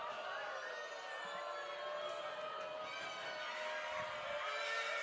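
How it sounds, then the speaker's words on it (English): Crowd at a high school football game between Holliston and Middleboro, a steady, dense murmur of many voices rumbling continuously in the stands after a penalty call, with no single shout standing out. "This Panther crowd is a little unsettled after that call."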